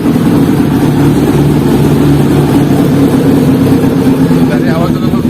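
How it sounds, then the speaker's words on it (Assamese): A car engine idles steadily with a low, even hum, close by, while people talk over it. "গাড়ী আৱাজটো শুনাই দিছোঁ"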